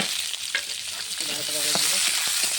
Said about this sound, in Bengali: কড়াইয়ে সরষের তেল দিয়ে দিলাম। ঝাল কাটা, পেঁয়াজ কাটা, রসুন ওটা, তেজপাতা